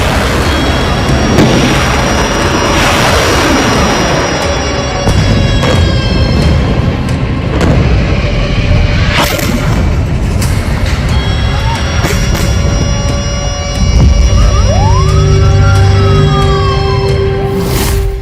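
Rocket attacks by Hamas on Israel, with wailing sirens rising and falling over a dense rumble of booms and explosions, loud and continuous throughout with steady background noise.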